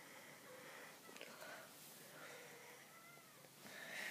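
A kitten's soft, thin meows rise a few times close to the microphone, faint and breathy against a quiet background.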